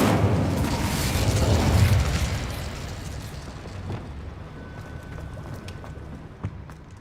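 Casting the Incendio fire spell in Hogwarts Legacy gives a whooshing, roaring burst of flame that is loudest early, then dies away into a quiet crackle and faint scattered pops.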